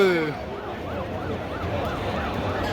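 An ambulance siren wails in a steady rising-and-falling cycle near the parliament in Nepal during clashes, moderately loud over traffic rumble.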